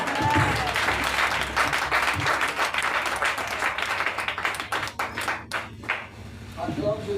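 A church congregation applauds Jesus, a loud wash of clapping and crowd noise under a preacher's voice speaking over it, thinning toward the end before rising again.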